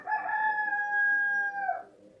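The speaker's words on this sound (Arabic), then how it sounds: "طبعا الديك بتاعنا المعتاد انتوا اتعودتوا عليه" A rooster crows once, close by and clear: a single sustained call lasting almost two seconds that trails off at the end, with nothing else heard.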